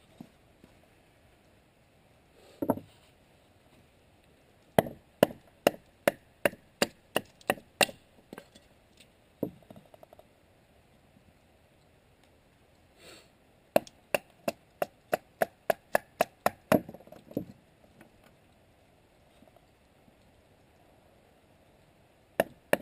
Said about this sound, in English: Alright, so I'm going to do a little batoning.